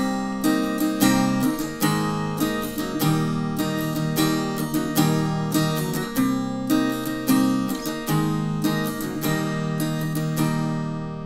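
Acoustic guitar strumming the chorus of a song, open chords without palm muting, played steadily in a rhythmic pattern with chord changes, close and full with no talking.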